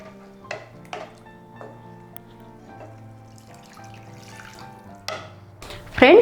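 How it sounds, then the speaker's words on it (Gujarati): Water is poured into a pan of Kathiyawadi sev tamatar curry made with Kashmiri red chilli powder. A short, loud splashing pour arrives at the very end after quiet, sparse clinks and a soft tonal background. "અને સાથે જ હું એડ કરું છું પાણી"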